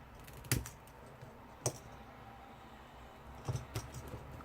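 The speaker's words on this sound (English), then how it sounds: "what I'm going to do is I'm going to cut this into 4." Scissors snipping a gold vinyl sticker sheet into four pieces for card corners, giving a few sharp, close cuts at roughly one-second spacing with a quick double snip near the end, alone in a quiet room.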